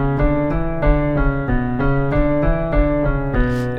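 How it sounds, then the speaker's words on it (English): Electric guitar riff run through an octaver effect that stacks a higher octave over each note, giving a doubled, thick tone; evenly repeating picked notes, loud and upfront with no talking. "The octaver would add this over the top."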